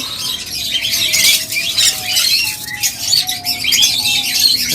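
Pet birds in a shop squawk and chirp repeatedly, with sharp close calls over a busy background chatter of other birds.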